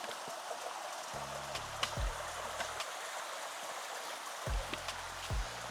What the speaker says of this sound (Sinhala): මෙතනිනුත් ලස්සන වතුර පාරක් ගලාගෙන යනවා